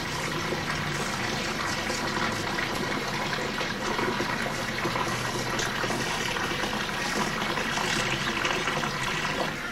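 A platypus entering and moving about in water, heard as steady splashing and sloshing close by, continuous and even in level, with no talk over it.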